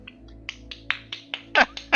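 Sparse single hand claps, roughly eight sharp bursts spaced unevenly over two seconds, growing louder and fuller toward the end, heard over a low steady hum during a tabletop Pathfinder role-playing session.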